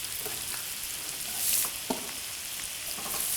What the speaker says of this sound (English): just cook, stirring for a while so that the flavours go deep into the onions